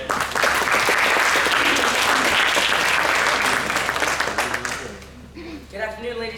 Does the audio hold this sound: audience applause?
yes